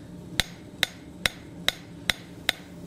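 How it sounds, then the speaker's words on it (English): Hot 10 gauge mild steel, about 1/8 inch thick, is forged with a hammer on a forge for a flower hook: six sharp, ringing metallic strikes fall in an even rhythm, close and clear. "So we're just gonna forge this down"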